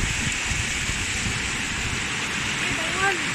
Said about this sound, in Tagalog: Ganyang kalakas ang ulan.